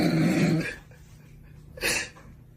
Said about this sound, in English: Pluto, this is the most responsible guard dog on the street.